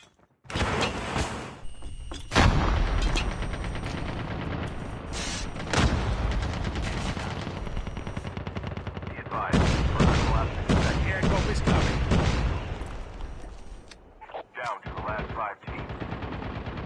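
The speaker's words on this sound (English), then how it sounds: "Let me shoot him." Loud, sustained video game gunfire from a shooter fills most of the stretch in dense rapid bursts, with short pauses and brief quieter gaps near the end.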